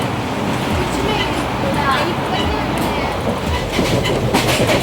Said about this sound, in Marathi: गाईज आम्हाला ट्रेन भेटलेली सकाळ सकाळ.